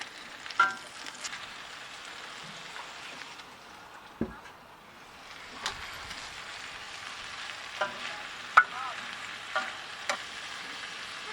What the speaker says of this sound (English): I'm going to stir it every few minutes, get them sauteed down real nice.